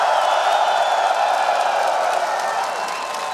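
An esports arena crowd at a PGL Astana 2026 Counter-Strike playoff cheers and applauds, a dense, loud wash of clapping and shouting that stays steady throughout.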